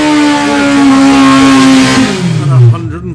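A drag racing car accelerates hard down the strip at Santa Pod, a loud engine roar that climbs in pitch and then drops away as it passes, with a commentator's voice over it.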